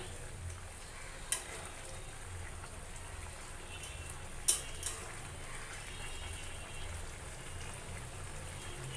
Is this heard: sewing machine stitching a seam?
no